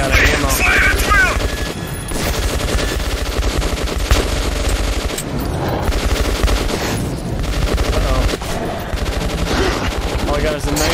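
Gunfire in Metro 2033 on PS4 comes as a dense, loud, continuous stream of automatic shots and bursts, close and sustained across the whole stretch, with possible shouting voices mixed in.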